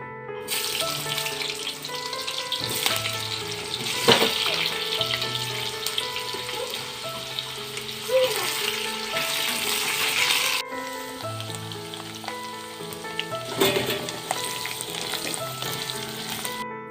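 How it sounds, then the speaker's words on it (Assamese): Steady, loud sizzling of potatoes frying in mustard oil, with occasional clatters of stirring and a brief shift in the hiss midway. "প্ৰথমতে মই মিঠাতেল দি আলুখিনি ভাজি থওঁ"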